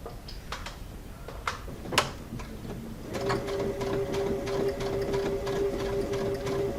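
A sewing machine with a J foot stitches a quarter-inch seam through a quilt-as-you-go pattern printed on batting, starting after a few light handling clicks and then running as a steady, close, humming whir.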